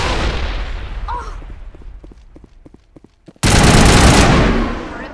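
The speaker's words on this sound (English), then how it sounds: "In Mass Effect 1, the guns are extremely loud." Loud gunfire in the video game Mass Effect 1 opens with a roaring blast that fades into sparse rhythmic clicks, then another sudden, sustained burst of heavy, noisy firing.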